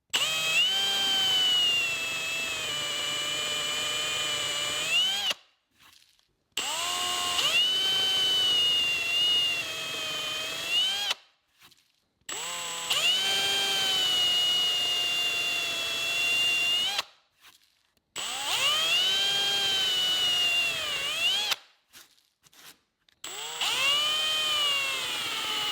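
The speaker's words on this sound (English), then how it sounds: "we'll drill holes right down the line." A power drill bores holes with Montana Brand bits, whining loudly and steadily in long sustained bursts of about five seconds, each with a rising and falling pitch, separated by short silences. No one speaks.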